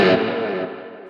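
Electric guitar harmonic effect made by a hammer-on while a pinky drags lightly across the string, giving a shimmering, effects-laden tone that rings then fades over about a second.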